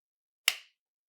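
A single sharp hand clap, close and crisp, standing alone in otherwise near silence, with a very short decay.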